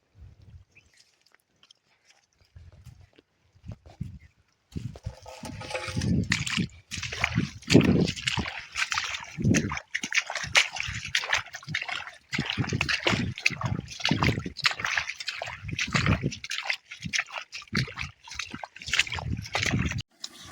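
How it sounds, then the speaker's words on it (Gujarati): Irrigation water gushes and splashes steadily into a maize field, fairly close, with sloshing and trickling that continues without pause after a quiet start. "પાણી નીકળે અહીંયા જોઈ લો"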